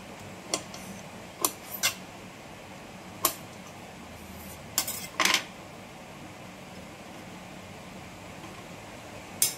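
A knife taps through rolled taro leaf alu vadi slices on a board, giving sparse, sharp clicks at irregular intervals over quiet background hiss, with no talking.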